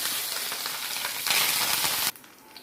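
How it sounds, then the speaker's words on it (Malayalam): Dried red chilies and curry leaves sizzle loudly in hot oil for a sambar tempering, a steady close crackling hiss that flares up briefly before cutting off abruptly near the end. "വറ്റൽമുളക് കറിവേപ്പില ഒഴിച്ച്"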